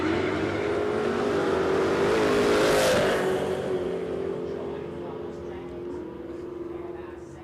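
A drag racing car launches down the strip at Warwick Dragway with a loud rising engine roar that swells to a peak, then fades as it pulls away, a voice talking over it.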